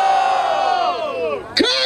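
A crowd at a street rap battle in Barueri roars and shouts for an MC, a loud sustained collective yell that sags, then swells again into a fresh burst of whoops.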